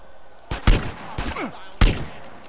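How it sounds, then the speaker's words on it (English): Sniper rifle fire in GTA San Andreas during a gang territory fight, three sharp, loud shots spaced about half a second to a second apart, with booming reports and brief tails. "Time for a sniper rifle."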